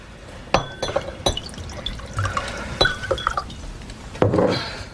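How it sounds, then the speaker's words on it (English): A drink is poured into a glass, with sharp clinks of glass at the start, a trickling pour in the middle and another clink and splash near the end, all close up and without talk. "Pour me a glass."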